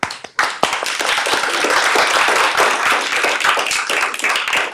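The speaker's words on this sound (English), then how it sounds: "so I will propose a small applause" Audience applause breaks out for the organizers at a mathematics lecture, a dense, steady patter of many hands clapping that starts abruptly and holds at full strength throughout.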